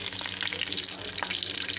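Stuffed bell pepper frying in hot oil, a dense close hiss with light crackle throughout, steady and unbroken, brief and without talk.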